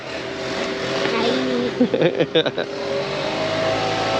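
The engine of a stock Nissan S15 Spec S revs nearby with a few sharp pulsing blips in the middle, and a voice talks over the steady background rumble.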